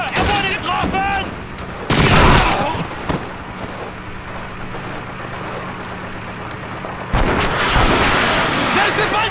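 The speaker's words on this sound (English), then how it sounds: "There's the Panzerwerfer!" A Panzerwerfer rocket launcher barrage in Call of Duty 2 delivers loud bursts of explosive fire and rumbling blasts amid shouting soldiers, with a heavy volley early and another sustained roar toward the end.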